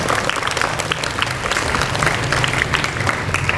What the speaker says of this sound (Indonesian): Tepuk tangan deh, tepuk tangan